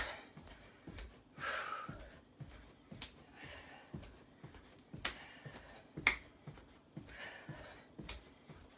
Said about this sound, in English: You can even clap.